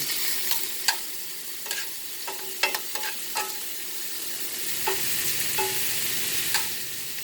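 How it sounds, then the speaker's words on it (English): Baby spinach stirred in a pan of olive oil and butter with salt and pepper, soft frying sizzle beneath a series of close, irregular scrapes and taps of the utensil against the pan. "I'm going to take it and stir it around."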